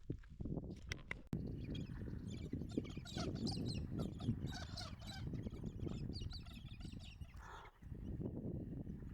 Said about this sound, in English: They look like chickens.